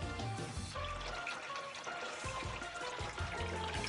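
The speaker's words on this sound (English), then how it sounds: "Now we're adding fresh water to our tank system." Fresh water pours steadily into a boat's outboard descaling tank system, a continuous broadband splashing and gurgling that runs close and fairly loud for the whole stretch, with no talking.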